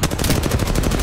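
Rapid gunfire from a weapon in Apex Legends, a dense burst of repeated shots filling the whole second, loud and close with no talking.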